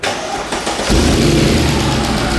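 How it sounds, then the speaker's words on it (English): A car engine with a weak battery, jump-started, cranks briefly then catches, settling into a steady low idle rumble that continues to the end. "we do still have to jump it in order to start the car"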